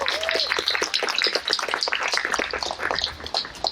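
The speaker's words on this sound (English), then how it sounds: "All right, let's give a big round of applause for our birthday." Applause from an audience at a fifth anniversary party: a dense, continuous patter of clapping hands, moderately loud and steady across the whole stretch without pause.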